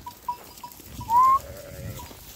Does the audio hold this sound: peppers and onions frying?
no